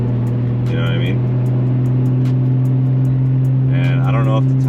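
A Nissan GTR drives along with a steady, loud engine drone heard from inside the cabin, while a person talks intermittently over it.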